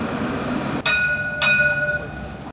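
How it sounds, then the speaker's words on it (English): A tram rolls past on a street in the new Art Deco quarter of Casablanca, Morocco, a steady rumble with metallic rail squeal, bright ringing tones and clinks, close and continuous. "I'll wait till this tram goes past."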